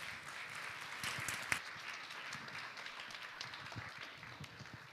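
An audience at a developer event applauds a speaker coming on, light scattered clapping that stays faint and thins out toward the end.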